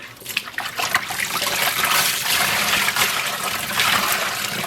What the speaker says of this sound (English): I just flung soapy water all over myself.